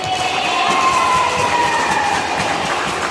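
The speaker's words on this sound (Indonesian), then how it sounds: "Tepuk tangan." A large group applauds and cheers in a church parish gathering of altar servers, a continuous loud wash of clapping and voices with a few shrill tones running through it, steady from start to end.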